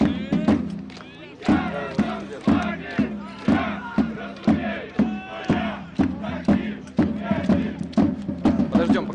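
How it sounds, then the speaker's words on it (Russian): Krumkachy football fans at a Belarusian league match chant their anthem together, a rhythmic crowd song punctuated by regular loud drum beats or claps roughly every half second, carrying steadily from the stands. "гимн поют болельщики Крумкаши"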